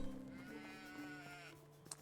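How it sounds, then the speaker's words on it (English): A sheep in the video game Medieval Dynasty gives one long, wavering bleat, close and moderately loud over soft ambient game sound, ending with a faint tap. "Hey sheep. Hello little lamb."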